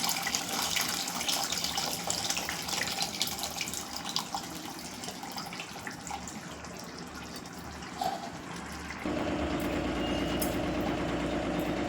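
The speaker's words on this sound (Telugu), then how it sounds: "ఇప్పుడు చింతపండు రసం కూడా తీసేసాను ఇప్పుడు ఇందులో యాడ్ చేసేస్తాను" Tamarind juice is poured into a pot of okra stew and gives a steady watery rush for several seconds, then a change to a fuller, louder pouring and bubbling near the end, with no talking.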